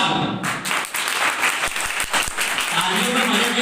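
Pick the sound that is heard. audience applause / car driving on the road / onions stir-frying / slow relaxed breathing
audience applause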